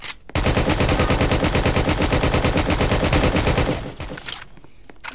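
Rapid automatic gunfire in the Roblox Jailbreak game, a loud, dense continuous burst of shots lasting several seconds before stopping abruptly, followed by quieter background game sounds.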